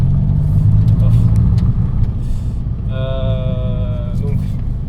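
A Mini R50 drives along an open country road with a steady engine and road rumble inside the cabin, while someone talks over it and a brief tonal whine appears partway through.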